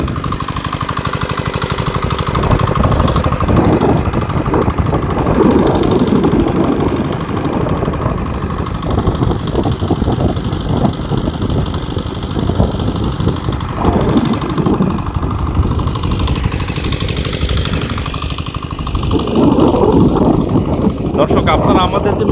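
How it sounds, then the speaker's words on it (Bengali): A two-stroke engine runs steadily, driving a fountain that aerates a fish pond outdoors in hot, muggy weather. The hum is continuous under wind buffeting on the microphone, and someone talks over it throughout. "আপনাদেরকে একটু দেখাচ্ছি মেশিনটা আমরা কীভাবে সেট করেছি এটা আমাদের টু বাট একটা মেশিন"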